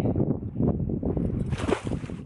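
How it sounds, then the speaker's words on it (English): Strong wind buffets the microphone on the UK coast during lure fishing, a loud continuous low roar and rush that swells and gusts for a couple of seconds with no speech. "as you can probably hear, the wind has really started to pick up a bit now"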